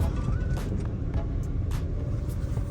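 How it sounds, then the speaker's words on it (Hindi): A car rumbles steadily at close range while being reversed out of a house, with a constant low engine drone and occasional faint higher noises over it. "चलो गाड़ी रिवर्स करते हैं।"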